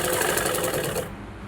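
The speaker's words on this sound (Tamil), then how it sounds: "அதே அந்த 1/2 இன்ச்சு மேலே அப்படியே நம்ம தையல் போட்டுகிட்டே வர வேண்டியதான்." A sewing machine runs steadily while stitching a blouse sleeve seam about half an inch in, a close, continuous whir that stops near the end.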